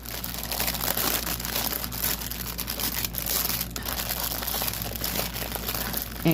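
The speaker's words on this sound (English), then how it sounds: "Crinkling." Plastic packaging of a stamped cross stitch kit crinkled by hand up close, a continuous rustling crackle with small louder crunches throughout.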